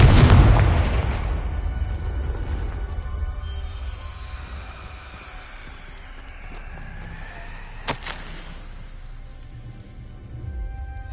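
Confringo blasting curse detonating in the Hogwarts Legacy video game: a heavy booming explosion right at the start that decays into a long hissing rumble, with a brief sharp crack later on.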